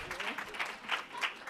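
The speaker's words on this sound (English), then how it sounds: "Round of applause again for our brave volunteers" A conference audience gives volunteers a round of applause at an improv session, moderate clapping with uneven swells, heard at a distance and fairly quiet.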